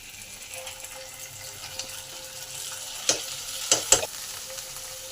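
Ginger, cumin and coriander paste hits a pan of part-boiled potatoes for a vegetarian potato and pointed gourd korma, giving a steady soft sizzle with a few sharp clinks of a spoon or spatula near the end.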